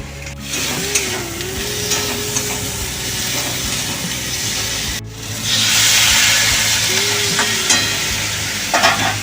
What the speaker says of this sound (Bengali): এখন রান্না চাপালো ঢেঁড়স আর আলু এটা কি ঝাড়খালো ভাজা করবেন